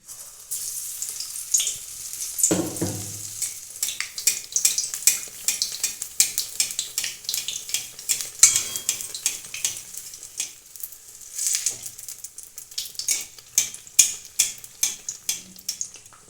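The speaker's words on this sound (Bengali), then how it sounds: "এখন আমি বেগুনিগুলো ভেজে নেব" Eggplant slices dipped in gram flour batter sizzle in hot oil as beguni fry, a steady crackling with a heavier splash near the start as a slice goes in, plus occasional stirring and clinks; no talking.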